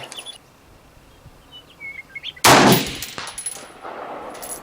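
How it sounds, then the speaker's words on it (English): Rifle rounds from a Lencac SC 1903A4 and a Noveske AR striking a steel post at an outdoor range: a loud, sharp report and ringing impact, then fainter echoing pops, with birds chirping quietly before it. "no range day is complete without banging some rounds at the post."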